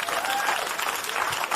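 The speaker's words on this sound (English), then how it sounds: "Give a round of applause for yourself." A podcast audience applauds in a short, steady burst of clapping, dense and fairly close, lasting barely two seconds without a break.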